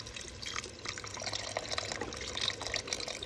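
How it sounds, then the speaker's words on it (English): A quart of beef broth pours into a soup pot with flour cooked into the base, giving a close, steady splashing gurgle that runs throughout without any voices. "we're gonna go ahead and add a quart of beef broth."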